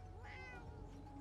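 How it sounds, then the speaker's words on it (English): A single faint meow from a cat in a video game, a rising then falling cry, heard alone over a low steady hum. "Oh, you can hear him meowing."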